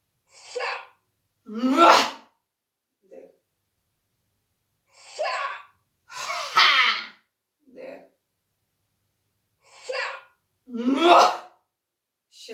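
Sharp, deep inhalations taken on cue during a breathing exercise, arriving in clusters of short and longer breaths with silent gaps between them, close and fairly loud.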